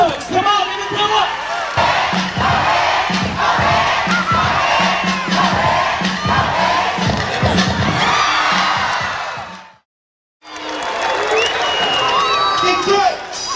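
A large Detroit crowd roars and cheers for the Jitterbugs dance group at a live show, a loud, dense wall of shouting and whooping with an announcer's voice over it, cutting out briefly before swelling again.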